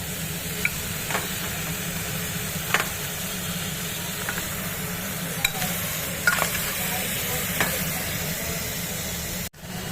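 Cleaned mutton shanks cooking in a pan with spices, a steady close sizzle and frying hiss under occasional scrapes of a stirring spoon, running without talk until a sudden knock at the very end.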